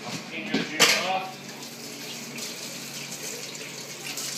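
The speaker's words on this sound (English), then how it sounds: "I'm going to go ahead and just rinse off my hands and get that jalapeno juice off." Kitchen faucet running while hands are rinsed of jalapeño juice during ceviche prep, a steady close water stream with a few brief clatters of dishes near the start.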